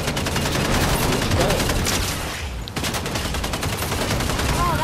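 Rapid automatic gunfire rings out in an online shooter match played as a trio, a dense rattling stream of shots with a brief lull before the firing resumes, with players' voices faintly underneath.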